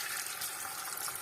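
Water pours into a pot for chicken tinola, a continuous bright splashing rush that holds steady and close for the whole brief moment.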